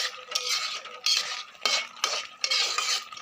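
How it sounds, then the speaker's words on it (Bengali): A utensil stirs tomato and ginger paste frying in a pan for a jackfruit curry, giving several bursts of scraping and clinking against the metal over a faint sizzle, with no voices. "এটা ভালোভাবে নাড়াচাড়া করে তারপর আমি মশলা দেব।"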